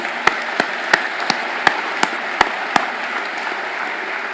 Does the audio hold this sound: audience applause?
yes